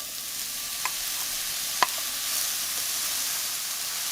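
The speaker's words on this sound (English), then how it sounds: "Continue sauteing your onions for about 3 minutes until they're translucent" Onions sauteing in hot oil in a pan make a steady, soft sizzle, with a couple of faint clicks of a utensil against the pan. There is no talking.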